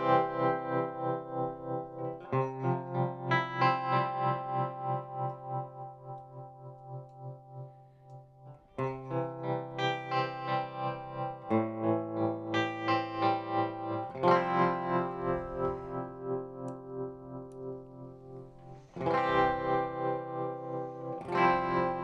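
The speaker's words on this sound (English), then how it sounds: "I'll just go to standard tremolo, so you'll get some of those more familiar kind of trem tones" Electric guitar through a Chase Bliss Gravitas analog tremolo pedal in standard tremolo mode, sustained chords and notes pulsing in a steady rhythmic volume wobble, played alone with distorted, chorused tone and a few chord changes.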